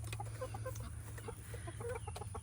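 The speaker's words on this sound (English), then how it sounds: "This is what most of my chickens are like." Several backyard chickens, including Polish hens, cluck and murmur close by as feed is handed out, a busy chatter of short clucks over steady low background noise.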